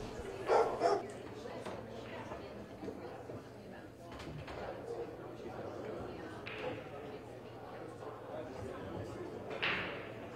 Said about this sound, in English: We had a little bit of a dog barking in the background.